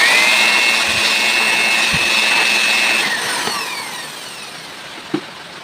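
A steady, loud rush of compressed air blowing inside a set-top box with a no-power fault, with a thin high whistle for the first few seconds, then tapering to a softer hiss.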